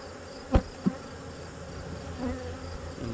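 Honey bees buzz faintly around a fall hive that began as a medium-frame nuc, a soft steady hum with a couple of brief louder passes close to the microphone.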